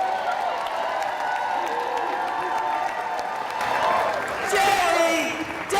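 A crowd of over a hundred people cheers and applauds at a Democratic political rally as Jerry Demings is introduced by his wife, a steady roar of voices that swells louder near the end.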